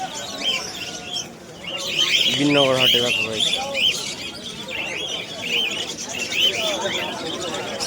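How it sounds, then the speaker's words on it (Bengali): Pigeons at a busy village bird market chirp and coo over one another nearby, while someone talks over the birds throughout. "এই যে এই ভাইয়ের পায়রা দেখো এখানে অঢেল পাখি অঢেল"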